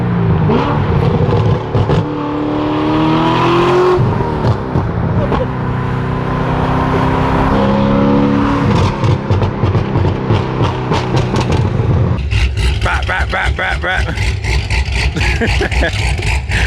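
Chevrolet Corvette Z06 cars revving and pulling away close by, rising and falling engine pitch in repeated bursts, ending in a harsher, crackling roar as they accelerate.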